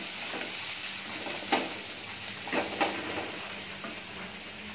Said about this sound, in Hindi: अब इसको हम स्लो फ्लेम में सौते कर लेंगे।